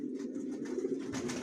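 Johnson long-line racing pigeons coo inside a loft, a low, steady, throaty murmur held close and continuous with no break and no voices.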